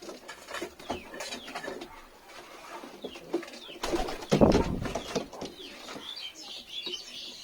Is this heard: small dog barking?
no